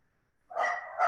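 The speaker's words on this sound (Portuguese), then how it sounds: "parece que os cachorros estão latindo" A short burst of dog barking, moderately close, two quick yelps running together after a moment of silence.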